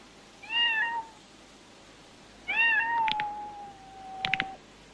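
A cat in the martial arts film Way of the Dragon gives two drawn-out meows, the second one longer, with sharp clicking sounds between them over a quiet background.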